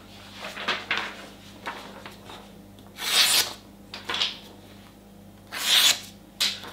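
A freshly sharpened blade, honed on Shapton Kuromaku stones, slices through a sheet of paper in several short, crisp, hissing strokes with pauses between, close and fairly quiet.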